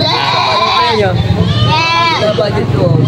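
Goats bleat repeatedly and loudly up close at a livestock market in Padre Garcia, Batangas, their wavering calls overlapping with nearby talk and crowd babble.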